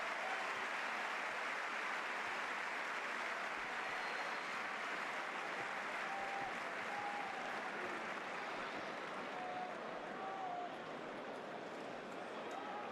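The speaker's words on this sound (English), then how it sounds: "That cheer tells you Marc Bernal's going to be called back here." A stadium crowd at a Barcelona football match against Valencia roars and cheers in a continuous, dense wash of noise that stays fairly even from start to finish.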